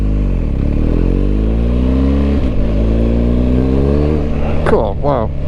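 A 2022 BMW R1250GS motorcycle engine accelerates hard, a loud continuous rising drone with gear changes heard up close, wind noise over it.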